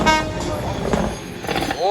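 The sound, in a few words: passenger train passing through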